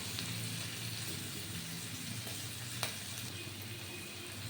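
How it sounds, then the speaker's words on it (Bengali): Rice fries in a pan with salt, giving a soft, even crackling sizzle that stays steady and fairly quiet throughout, with one small clink partway through. "ঠিক এইটা ভাজা ভাজা হওয়া পর্যন্ত আমাকে অপেক্ষা করতে হবে"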